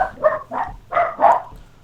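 A dog barks about five times in quick, uneven succession, close and fairly loud, with short gaps between the sharp barks and no talking over them.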